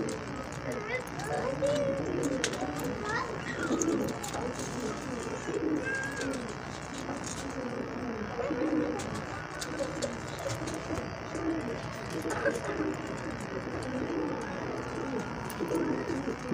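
Pigeons coo in low, throaty bursts throughout, mixed with scattered chirps and a busy background of voices and movement.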